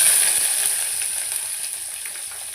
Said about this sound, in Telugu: ఫస్ట్ అయితే ఉల్లిగడ్డ వేసుకుందాం.